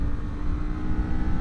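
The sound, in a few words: Kawasaki Z500 motorcycle engine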